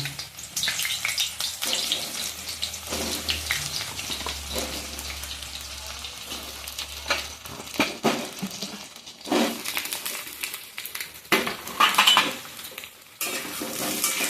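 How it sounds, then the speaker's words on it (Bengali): Ridge gourd pieces fry in hot oil in a wok, a steady sizzle joined by scraping and clinking as a spatula stirs them against the metal, with no talking. "ঝিঙেটা এবার কড়াইতে ছেড়ে দিলাম"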